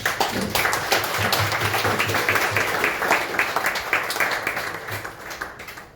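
Audience applause for speakers at an effective altruism talk, many hands clapping in a steady dense patter that holds throughout, with a faint cheer and a low hum underneath.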